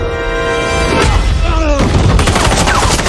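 Loud bursts of gunfire, several sharp shots in quick succession over a rumbling background, with tonal music fading out beforehand.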